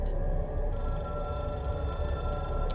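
A telephone rings in the game Control, a steady electronic bell tone holding over a constant low hum, moderately loud and without speech.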